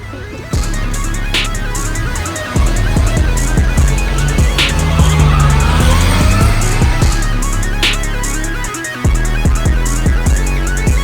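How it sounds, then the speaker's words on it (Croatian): A Zastava 750-series Fića 850 pulls away at full throttle, its small engine loud and near, revving steadily over about eleven seconds with no talk. "odo ja pun gas"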